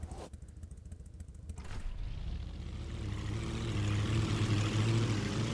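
Engine of a chopper-class motorcycle in a road-rage racing video game, starting as a low idle rumble and then revving up into a rising, steady drone that grows louder and closer.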